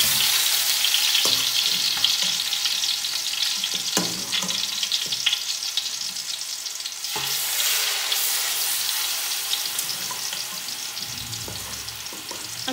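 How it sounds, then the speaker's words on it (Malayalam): Chicken pieces for Arabic biryani fry in hot oil, giving a loud, continuous close-up sizzle with occasional stirring scrapes and bursts as pieces go in. Nobody speaks. "നന്നായി ചൂടായി വരുമ്പോൾ നമുക്ക് ചിക്കൻ്റെ പീസസ് ഓരോന്നായിട്ട് അതിനകത്തേക്ക്"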